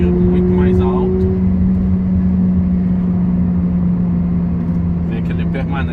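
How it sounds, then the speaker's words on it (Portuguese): VW Polo GTS 2020 engine held at high revs in Sport mode, a loud sustained drone from inside the car that never drops off, with people talking over it. "Vê que ele permanece com o giro alto, ele não desacelera."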